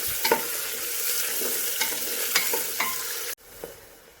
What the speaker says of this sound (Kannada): ಈರುಳ್ಳಿನ ಎಣ್ಣೆಯಲ್ಲಿ ಒಂದು ಸ್ವಲ್ಪ ಫ್ರೈ ಮಾಡ್ಕೊಳ್ತೀನಿ.